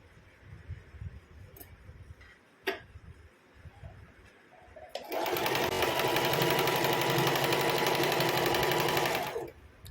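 Sewing machine stitching a kurti seam: after a few quiet handling clicks and taps, the machine runs loud and steady for about five seconds with a fast, even whirring rattle, then stops.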